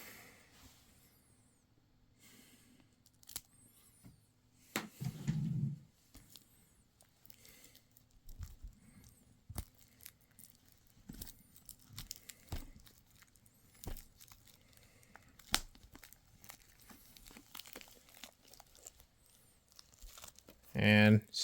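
Intermittent crinkling of plastic packaging being cut open with scissors, with snipping, soft rustles and scattered handling noises spread across a quiet room.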